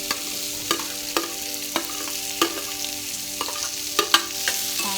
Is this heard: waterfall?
no